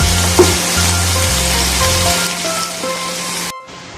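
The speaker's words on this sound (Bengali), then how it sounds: "আমি যেহেতু গ্যাসে করছি সেহেতু স্যালো ফ্রাই করে নিয়ে তারপরে শিকে করে পোড়াবো মাংসটাকে" Chicken pieces shallow-frying in a pan on a gas stove give off a loud, close, continuous sizzle with steady crackle, and a low hum runs underneath before the sound cuts off near the end.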